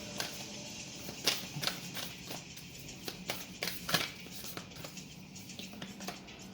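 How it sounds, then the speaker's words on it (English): Quiet, sloppy shuffling of a tarot deck, with soft irregular card flicks and riffles tapping along for several seconds, close and alone without speech. "Oops, sorry, sloppy shuffling."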